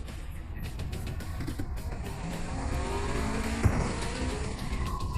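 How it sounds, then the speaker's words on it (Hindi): Race cars speeding around a track in a car race, with a continuous engine roar and tire noise that swells slightly, plus a brief knock near the end and no talking. "ये कार रेसिंग है, कोई बम्पर कार मैडनेस नहीं।"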